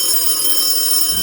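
A telephone rings for a radio call-in prize promo, a loud steady electronic tone that holds without a break, close and alone in the mix.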